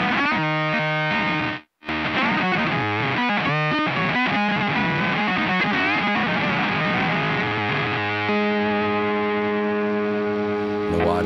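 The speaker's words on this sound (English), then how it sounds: "The wah distortion." A processed electric guitar runs through a wah distortion effect in the AmpliTube Slash app, playing continuous, loud, gritty sustained notes with sweeping tone, interrupted by one brief dropout near the start.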